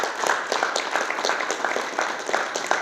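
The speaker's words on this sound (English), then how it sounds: "So a big round of applause" A room at a boxing press conference breaks into applause, producing a continuous patter of many claps with small surges and dips that stays fairly loud from start to finish.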